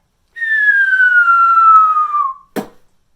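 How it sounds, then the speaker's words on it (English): A person whistles a single long, slowly falling note lasting about two seconds, loud and close, followed by a brief sharp click or tap. "I can whistle anything."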